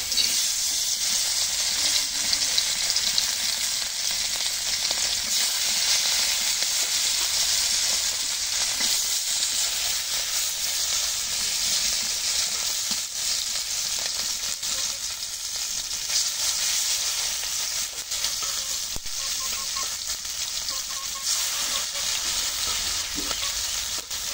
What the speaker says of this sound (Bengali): এখন মাছটা দিয়ে দিই কড়াইয়ে।